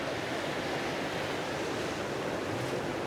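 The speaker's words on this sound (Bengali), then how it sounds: "এই যে আপনাকে এখানে ঢেউগুলো একটু দেখাই দিই ঢেউগুলো মোটামুটি বড়ই" Sea waves roll and wash onto the beach at Phuket, Thailand as a steady, broad, close roar of surf with light wind and no speech.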